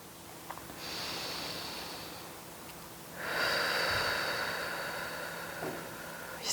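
Calm, natural breathing during a beginner yoga session: a slow inhale and a longer, steady exhale close to the microphone, airy and soft, with no talking.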